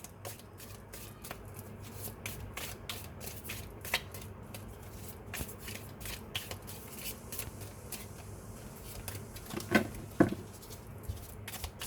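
Tarot cards being shuffled and drawn produce a steady, soft patter of riffling and flicking cards, close up and continuous, with a few slightly louder slaps near the end and no talking.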